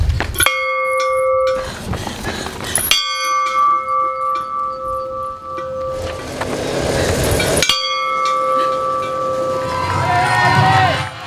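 A bell rings out at a Canadian war memorial in France during a commemoration, its sustained tones clanging and ringing on in several loud strikes with pauses between, over faint crowd murmur.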